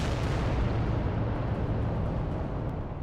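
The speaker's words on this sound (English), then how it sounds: "just throw some shots. Just to see if anything lands. Rockets flying all over the place." Dense, continuous barrage of rocket fire and explosions in the Adeptus Titanicus tabletop war game, a loud rumbling wall of blasts and booms with no pauses, steady throughout.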